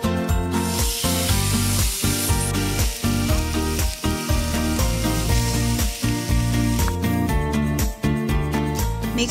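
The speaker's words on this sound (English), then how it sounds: "Heat your grill to medium-low heat and cook to desired doneness." Steak searing on a grill over medium-low heat: a loud, constant sizzle and crackling hiss fills the whole stretch, with a layered rhythmic pattern underneath and no voices.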